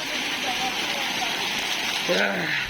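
Heavy rain with a stormy, gusting wind, a steady broadband rush of falling water heard close and loud throughout, with a faint voice in the background.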